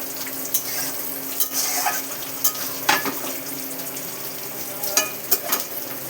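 Pointed gourd sizzles steadily as it fries in a pan, with occasional sharp scrapes and clinks of a utensil stirring it, fairly quiet and close with no talking.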